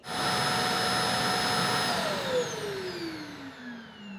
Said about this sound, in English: It is as noisy as any other traditional vacuum